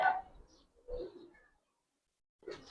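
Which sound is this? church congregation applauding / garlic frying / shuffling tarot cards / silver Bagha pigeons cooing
silver Bagha pigeons cooing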